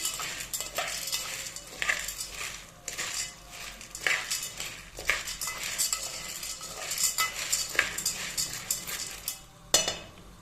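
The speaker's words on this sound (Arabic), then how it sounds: "افضل اقلب فيها كمان شويه" Pasta fried in a pot clatters and scrapes as a utensil stirs it, with repeated metallic knocks against the pot in an irregular rhythm, close and fairly loud, no talk.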